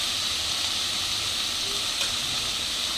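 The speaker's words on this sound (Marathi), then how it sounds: "मुळ्याचा पाला आणि मुळा या कढईत टाकणार आहे." Radish leaves and chopped radish landing in a hot kadhai, giving a steady, loud hiss of sizzling oil and steam that holds evenly throughout.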